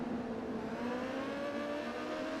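Racing motorcycle engines at the Brno circuit in a MotoGP video game, a continuous high-pitched drone held at steady high revs, loud and unbroken with no talk over it.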